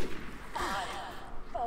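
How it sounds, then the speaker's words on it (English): Sniper rifle shots ring out in a competitive Team Fortress 2 match on the Gravelpit map. One sharp crack lands near the middle, with another brief hit at the end, over constant game ambience. "Some really nice sniping going on out of FF"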